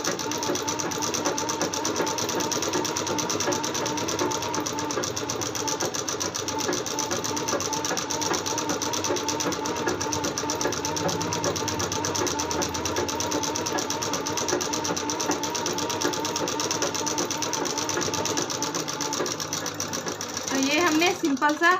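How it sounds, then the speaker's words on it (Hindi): A sewing machine runs continuously while stitching a simple salwar, a loud, close, steady mechanical whir with rhythmic needle clatter, and a voice speaks over it. "एक सिलाई और बीच में हम डिजाइनिंग कर लेते हैं"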